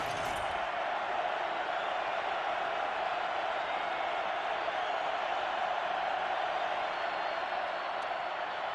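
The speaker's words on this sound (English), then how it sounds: "The loudest this crowd has been today." Large college football stadium crowd roaring loudly, a sustained wash of cheering that stays level from start to finish with no clear breaks.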